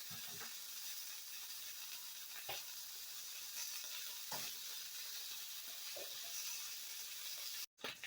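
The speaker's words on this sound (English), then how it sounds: "I'm gonna throw some butter up in there." Butter sizzling steadily in a hot pan alongside turkey bacon, a continuous bright hiss with occasional soft crackles and a brief stir or scrape, heard alone without talk.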